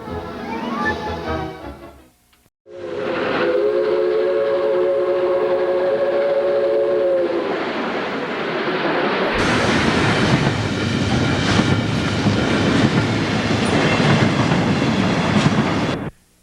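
A train rumbles past near Beaver Falls, Pennsylvania, its horn sounding a long chord, followed by loud steady roaring and clattering of passing cars close by.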